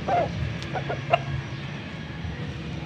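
A young rooster at a Pampanga market gives a few short clucks close by against a low murmur of background noise.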